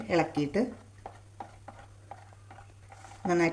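A spoon stirs cardamom-sugar powder into hot sugar syrup, giving soft rhythmic taps and scrapes against the pan, with a voice speaking at the start and end.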